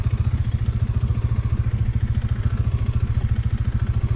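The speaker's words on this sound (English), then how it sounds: "This bike is so heavy, I can't even turn it." A heavy motorcycle engine idles with a fast, even, throbbing pulse, close and steady, while the bike is turned in mud.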